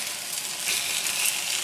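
Chicken qeema parathas fry on a stovetop over medium-high flame, a close, steady crackling sizzle with no pauses.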